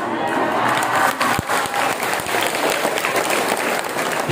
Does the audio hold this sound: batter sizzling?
no